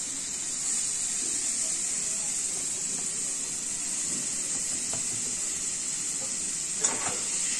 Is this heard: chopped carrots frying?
yes